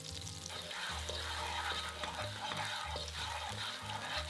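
Ginger, scallions and garlic stir-frying in extra light olive oil, with a continuous close sizzle and regular scraping, tossing strokes in a pan, fairly quiet and without talk.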